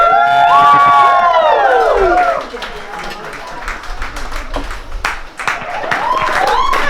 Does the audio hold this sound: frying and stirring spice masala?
no